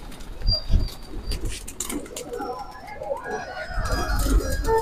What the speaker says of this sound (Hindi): ये ऊपर ये सारे कबूतर उड़ रहे हैं